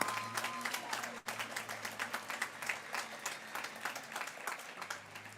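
Crowd applause at a high school graduation ceremony, broad continuous clapping from a large audience with a steady rhythmic pulse, heard at moderate distance.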